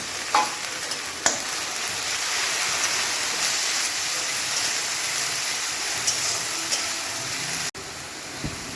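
Onion with ginger-garlic paste sizzling and frying steadily in hot oil on a low gas flame, a continuous loud crackle with a few sharp stirring clicks and one brief break near the end, no voices.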